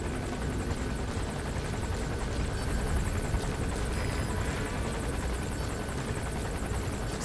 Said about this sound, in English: The helicopter passed, so we're all good.